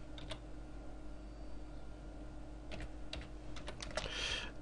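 Quiet computer keyboard typing in short bursts of clicks, a few isolated keystrokes followed by a quicker cluster, heard close with low steady background hum and no talking.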